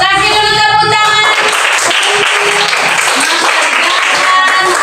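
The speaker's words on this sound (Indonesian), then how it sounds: "Kasih dulu tepuk tangan." Schoolchildren clapping in a classroom during a lesson, loud and close, with bright tonal sounds and voices mixed in at the start before steady hand claps continue.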